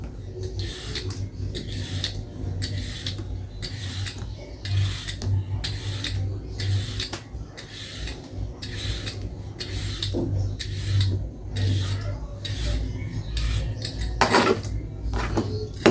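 A cucumber being peeled and washed in a kitchen, with steady rhythmic scraping strokes and light clinks of utensils against a bowl, close and continuous with no talking.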